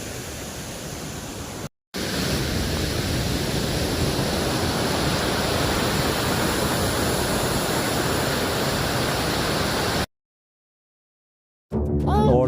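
Water pours steadily at Kitwad waterfall near Belgaum, a dense, continuous broadband roar heard close and unbroken, cut by brief silent gaps.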